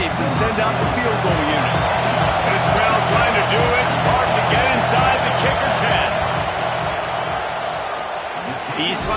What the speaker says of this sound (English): This crowd trying to do its part to get inside